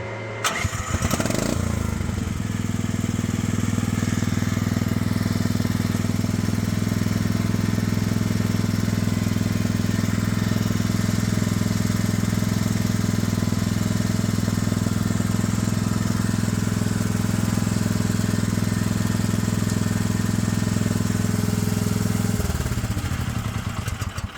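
A MachPro MP15 Chinese mini excavator's engine starts and then runs at a steady, loud idle for about twenty seconds before cutting off at the end, with no talking over it.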